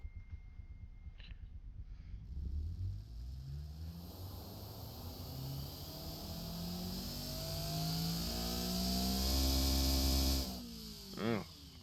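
A simulated 3.4 L 2JZ drift engine in the Automation game revs up from a low idle, climbing steadily in pitch to a loud high-rpm peak before dropping off and blipping once more, heard alone and fairly close.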